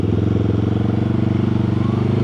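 A Benelli TRK 702 motorcycle on a road with its standard stock exhaust can, producing a loud, close, steady deep throaty engine drone with a fast even pulse, heard alone.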